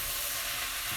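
Sausage meat frying in a pan for a sausage and fennel pasta sauce, stirred around with a steady, close, continuous sizzle and hiss and no talk.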